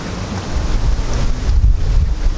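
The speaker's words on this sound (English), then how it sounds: "so it's a bit windy" Strong wind buffets the microphone with a constant low rumble and roaring gusts, no voices present.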